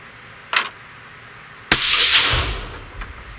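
A Blaser R8 rifle fires a single shot through a Hauskin suppressor, a sharp, loud crack followed by a long rumbling tail rolling across the range, with a fainter click just before it.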